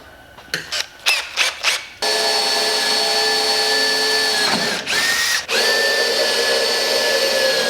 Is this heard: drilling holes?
yes